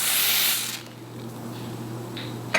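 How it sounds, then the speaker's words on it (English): A spray bottle hisses onto the lace of a blonde curly wig in one short, close burst, followed by quiet handling noises and a brief final rustle. "So I'm just going to spray here."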